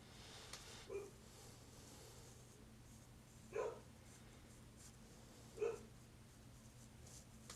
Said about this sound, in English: the puppies are kind of wound up because their little foster buddy's not here right now